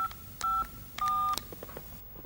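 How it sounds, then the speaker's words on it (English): Phone keypad tones beep as a number is dialed, several short clear tones spaced unevenly over about a second and a half, close and alone without talking. "I dial in your number."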